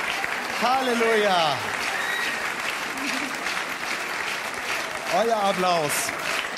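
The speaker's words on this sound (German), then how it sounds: "Euer Applaus!" Steady applause from a carnival (Fastnacht) audience in Konstanz runs throughout, with voices calling or singing briefly over it near the start and again near the end.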